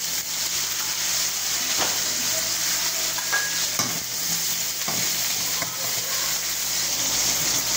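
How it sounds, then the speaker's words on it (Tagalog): Cabbage goes into a pan of sautéing chayote, setting off a loud, steady sizzle close by, with occasional clicks and scrapes of stirring and no voices. "Ayan, medyo luto na guys itong sayote. Lagyan natin itong repolyo."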